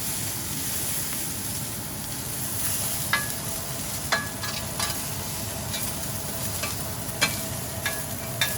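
Mushrooms frying in the fond left by smash burgers and onions, a steady close sizzle with occasional sharp clicks and scrapes of a utensil stirring on the hot surface; no talking.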